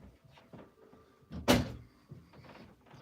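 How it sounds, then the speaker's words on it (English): A room door in a home is pushed shut with a single loud, close thud midway, amid quiet shuffling before and after. "Let me close my door."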